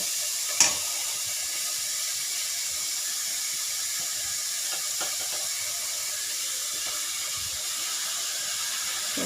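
Curry leaves and tomato fry for prawn thokku in a steady, continuous sizzle and hiss, with one sharp clink near the start and a few faint stirring sounds.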